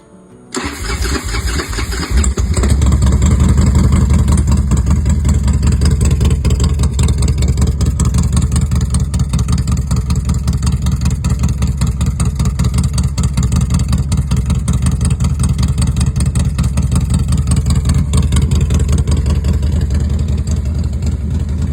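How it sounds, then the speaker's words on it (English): A 2010 Harley-Davidson Dyna FXD motorcycle cranks and fires up, then settles into a loud, close, steady throbbing idle that holds for the rest of the clip. "throaty exhaust note that turns heads wherever it goes"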